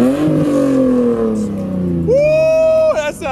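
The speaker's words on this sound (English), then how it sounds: "Give me that rev." A car engine fitted with an HKS Titanium exhaust starts with a falling tone, then sweeps upward in a loud rev and holds high before cutting off. Voices talk over it.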